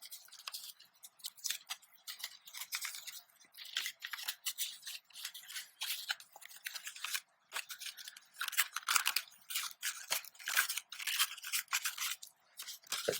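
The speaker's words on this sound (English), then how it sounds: "Start bending the papers so that you can make your cube" Paper being folded and creased into a cube for a craft, a steady run of crisp, close crinkles and scraping rustles with brief pauses, quiet and alone.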